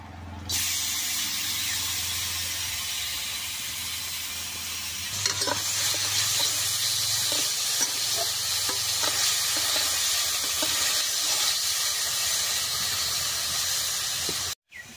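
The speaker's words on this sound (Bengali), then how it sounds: "পুরিনা নারকেলটা আমি এখন কড়াইয়ের মধ্যে দিয়ে দেব।" Grated coconut sizzles steadily in a hot karahi on a lit stove while a coconut filling for pitha is made, with repeated scraping stirs joining in about a third of the way through; no one speaks.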